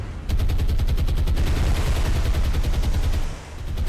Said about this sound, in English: we are firing at point blank now